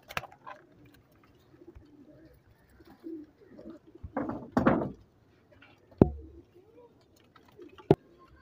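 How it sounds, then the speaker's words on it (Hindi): Coos from a male Miyan Sahib pigeon, a fancy breed, come as soft, low bursts near and in short phrases, broken by a few sharp knocks and clicks in a quiet room. "ये मियाँ साहब वाला कबूतर है"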